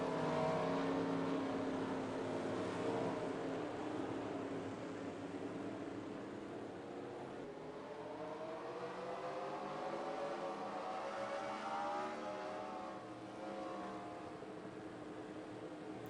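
Simulated NASCAR race car engines from a racing video game drone steadily at full volume for the whole stretch, with a dense roar and rising harmonic whine as cars accelerate, no talking.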